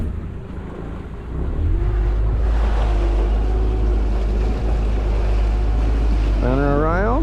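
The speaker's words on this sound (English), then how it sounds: "let's see if we can turn this 24-foot boat around in about 16-foot wide creek here" A motorboat's engine drones loudly and steadily as the 24-foot boat turns around in a narrow creek, with wind buffeting the microphone and a rising engine whine near the end.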